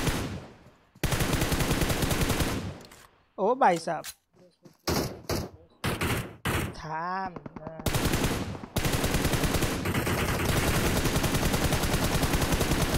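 Automatic gunfire sprays in a Battlegrounds Mobile India match at a college esports event, loud sustained bursts at the start and end with sharp shots in between, mixed under excited Hindi commentary.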